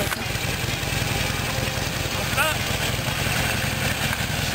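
A Harley-Davidson 1200 Nightster engine idles steadily throughout with a low, loping rumble, heard up close beneath someone speaking briefly at the start.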